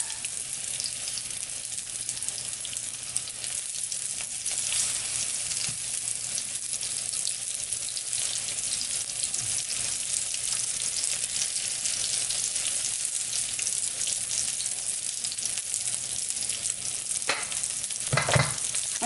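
Ebleskiver batter frying in a seasoned Norpro cast iron pan, with a steady, close hiss of sizzling throughout and a few faint scrapes near the end.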